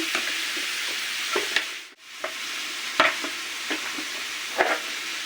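Carrots and onions sizzle steadily in a hot pan, with sharp clicks and scrapes of a spoon stirring the vegetables every second or so.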